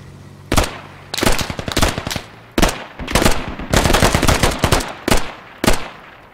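Gunfire in the military shooter game Squad: sharp, loud bursts of automatic fire in rapid irregular volleys, with brief pauses between strings of shots.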